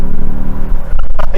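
Engine of a 2024 Ford Bronco Everglades heard through its snorkel while driving, a loud low drone that rises and swells into revving near the end, with a voice talking over it.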